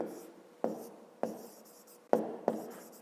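Pen or pencil writing by hand on paper during a fifth-grade maths exercise, soft scratchy strokes broken by several sharp taps as the tip meets the page, close and fairly quiet.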